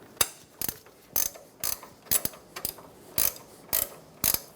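An 18mm wrench loosening the upper ball joint nut on a 2014-2018 Chevrolet Silverado gives about nine sharp, evenly spaced ratcheting clicks, close and fairly loud, with no talking.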